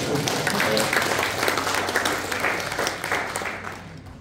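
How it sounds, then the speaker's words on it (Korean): An audience at a lecture by a former agricultural cooperative federation chairman claps steadily throughout, a dense continuous patter of hands that fades a little toward the end, with faint voices underneath. "남평 박수 치시고"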